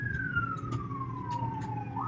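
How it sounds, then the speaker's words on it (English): An ambulance siren passes at a moderate distance, a single wailing tone that slowly falls in pitch before sweeping back up, over low traffic rumble. "We have an ambulance going by,"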